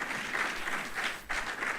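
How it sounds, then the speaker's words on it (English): Brief, steady applause from the audience at a leaders programme closing ceremony, honouring the awardees, heard from moderately far away. "Another round of applause for all our awardees"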